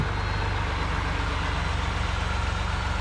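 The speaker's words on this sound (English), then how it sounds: "while it's just running, you can hear the turbos whining" A tow truck's engine idles steadily with its turbos whining, a close, continuous low rumble with an even pulsing beat and a constant high hiss on top.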